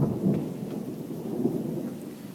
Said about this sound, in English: This is like one of those horror movie thunderstorms.